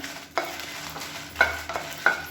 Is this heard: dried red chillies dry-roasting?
yes